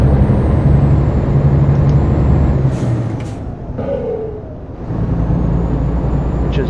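Air-shift gearbox of a UK truck in Euro Truck Simulator 2, with sharp pneumatic hisses and releases cutting through a loud, steady engine drone as the gears change.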